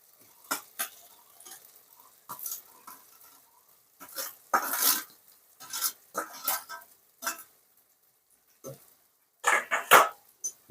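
Banana flower is stirred into spiced oil in a pan, giving intermittent scraping and clinking of a spoon against the pan in short uneven bursts, with faint sizzling in the gaps.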